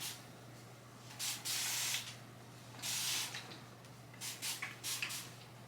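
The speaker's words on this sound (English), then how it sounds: "So I just take the whole thing and I just spritz my hair" A spray bottle spritzes water onto knotless braids in several short bursts, close and crisp, with pauses between each hiss and a quiet background hum.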